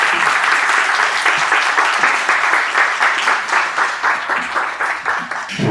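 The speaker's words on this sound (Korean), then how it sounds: "박수로 맞이해 주시기 부탁드리겠습니다" An indoor audience at a book talk gives sustained, dense applause to welcome two authors. The clapping is loud and continuous, with a slight rhythmic pulse as it fades somewhat toward the end.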